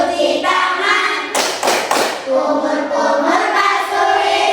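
A few sharp hand claps land near the middle of an Islamic education class clapping chant about ablution, set against a steady chanting voice that runs the whole time.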